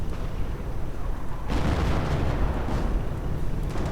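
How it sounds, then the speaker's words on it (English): Artillery barrage in the WWII strategy game Company of Heroes, mortar rounds falling on a victory point: dense rumbling explosions and booming impacts, swelling into a loud sustained roar from halfway through with crackling debris, no talk. "More artillery."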